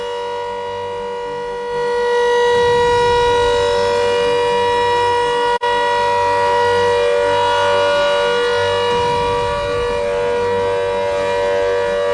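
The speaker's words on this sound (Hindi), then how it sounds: "ये आपने सुना, ये सायरन की आवाज" A civil defense war siren installed in Meerut sounds in a test, a loud steady wail holding strong tones throughout with slight swells in level, alone with no voices.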